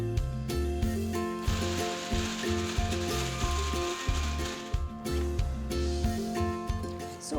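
Cooked ivy gourd pieces, tomatoes, peanuts, coriander seeds, garlic and chillies being ground for an Andhra chutney, a rhythmic whirring mechanical drone with repeated pulsing bursts, loud and close, with no talking.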